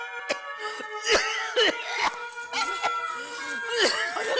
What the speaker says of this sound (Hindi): अचानक खांसी कैसे शुरू हो गई?